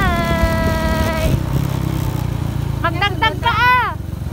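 A Honda XRM125 motorcycle ridden during a family driving lesson, its engine droning and revving under excited voices and laughter, with a high whining note fading early on.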